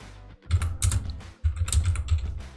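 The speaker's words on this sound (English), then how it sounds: "So let's type that" Typing on a computer keyboard to enter a command, with two bursts of rapid, close keystroke clatter separated by a brief pause.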